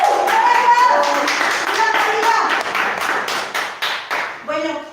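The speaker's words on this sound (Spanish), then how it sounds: "Vamos a dar un fuerte aplauso." Audience clapping during a religious prayer gathering, with sharp hand claps throughout under talking voices, the clapping becoming more distinct and rhythmic toward the end.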